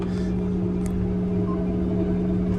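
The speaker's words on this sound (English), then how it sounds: "So we're just gonna drive in reverse." A farm tractor reversing down a road, its engine a constant near drone with steady low hum and rumble, no speech over it.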